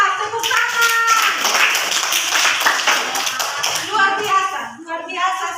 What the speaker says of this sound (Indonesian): Oke, mantap, tepuk tangan.